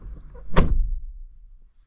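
The door of a Mazda CX-90 PHEV plug-in hybrid SUV shuts with a single solid, deep thud, close by and followed by a short quiet decay.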